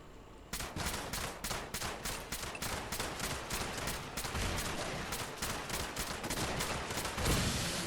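Rapid assault rifle fire in Fallout 76, aimed at a sentry bot, comes as a steady stream of loud, evenly spaced shots lasting about seven seconds, with a brief pause near the end and no talk over it.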